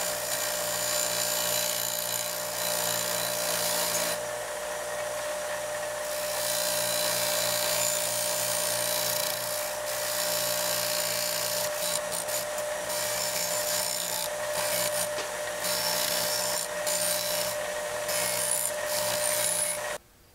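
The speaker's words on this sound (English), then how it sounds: "Want to see the best way to knock dross off of plasma?" Tool working on plasma-cut metal parts to knock off the dross, heard as a continuous loud grinding, buzzing whine with intermittent scraping bursts, close up and steady for about twenty seconds before stopping abruptly.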